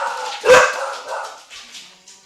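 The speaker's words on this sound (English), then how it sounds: "Sorry about the dogs." Dogs bark sharply indoors during a maths lecture, one loud bark followed by a few fainter yips and barks that trail off.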